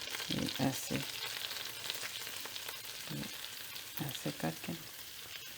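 Cabbage goes into melted butter in a hot pan and sizzles with a continuous bright hiss, broken by brief stirring bursts, while someone speaks briefly over it.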